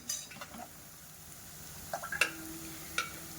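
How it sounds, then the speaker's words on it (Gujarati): Garlic and chili sauté gently in a pan over a low flame, giving a soft, quiet sizzle with a few light spoon scrapes and clinks against the pan. "સરસ લસણને આપણે સાતળી લેવાનું છે"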